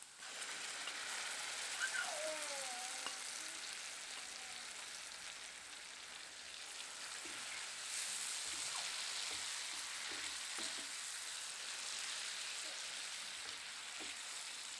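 Blended tomatoes hit onions already frying in a pan, setting off a steady, moderate sizzle and crackle with occasional stirring scrapes and no talking.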